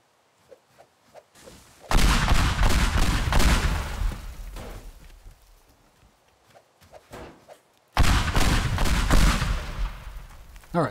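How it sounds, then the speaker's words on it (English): Pipe bombs blowing up in Teardown, two big loud broadband blasts with long rumbling debris tails, the second following several seconds after the first, with scattered crackling in between. "Well, let's throw some pipe bombs."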